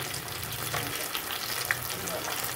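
Chicken legs frying in oil at medium flame, a steady hiss and crackle of sizzling fat with a few small pops, heard close and continuous.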